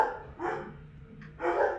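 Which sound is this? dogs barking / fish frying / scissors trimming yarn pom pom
dogs barking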